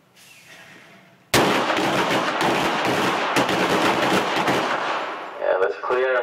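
Handgun shots at an LAPD qualification course, a sudden rapid string of loud sharp reports fired in quick succession by several shooters on the line, close and echoing, tapering off near the end.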